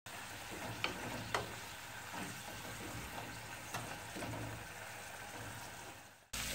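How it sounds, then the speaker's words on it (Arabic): Chicken liver fries in hot oil in a pan, a steady close sizzle with occasional clinks and scrapes of stirring, no talk, ending abruptly. "نحمر الكحله في الزيت بالطبع"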